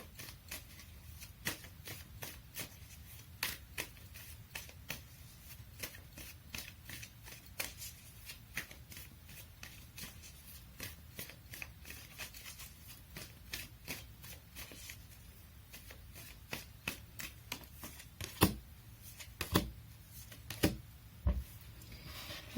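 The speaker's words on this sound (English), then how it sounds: "let me pull up some cards from the universe for you." Tarot cards being shuffled by hand during a Leo reading, with a steady run of soft riffling flutters and sharp card snaps repeating over about twenty seconds, close and fairly quiet, with no talk.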